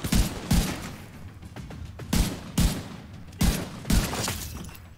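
Heavy single shots from an M1A rifle in The Division 2 come in spaced pairs, six loud, sharp reports in all, each trailing off into an echoing tail between the pairs.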